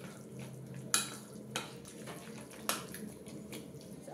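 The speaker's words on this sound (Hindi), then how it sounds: "फिर से सबको मैं मिक्स कर ले रही हूँ।" Semolina batter with green vegetables, salt and baking powder being mixed for appe, heard as soft, quiet stirring and scraping with a few sharper clinks of the spoon against the bowl and no talking.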